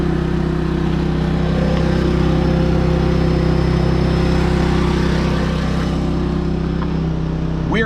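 A generator engine runs at a steady, loud drone with a constant low hum throughout, close by and unchanging, with no voices over it.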